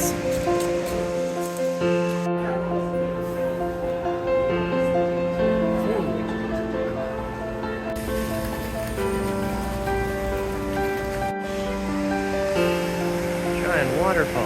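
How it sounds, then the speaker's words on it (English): Shifen Waterfall in Taiwan roars as a steady, broadband wash of falling water, heard up close from a nearby bridge, with crowd chatter and voices mixed in throughout. "Giant waterfall."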